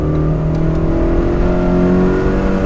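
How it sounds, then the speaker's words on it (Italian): A Toyota AE86 fitted with an aftermarket differential drives along under steady load, its engine holding a constant close drone with a faint whine, loud throughout and free of talk. "Senti il differenziale quanto è cattivo, perché questo non è originale"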